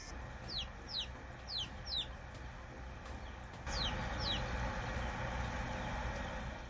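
Broiler chickens at a poultry farm in Masallı, Azerbaijan, give short, high, descending peeps in small bursts. The calls are faint over a constant mechanical hum that grows louder partway through.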